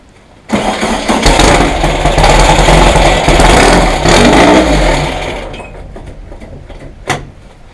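A Volkswagen 1835 engine cranks and fires suddenly, then runs loud and rough close by for about five seconds before dying away, with a short sharp noise near the end.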